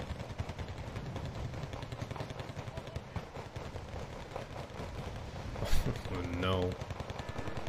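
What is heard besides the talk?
artillery and cluster fire in Wargame: Red Dragon video game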